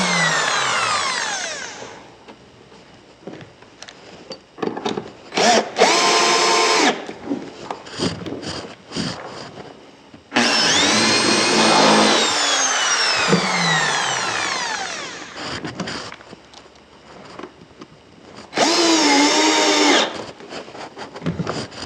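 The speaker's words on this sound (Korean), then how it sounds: "똑같이 드릴로 상판을 고정하십니다" Power drill fixing the top panel of a drawer cabinet, with several bursts of whirring drilling separated by quieter handling and tapping, loud and close with no talk.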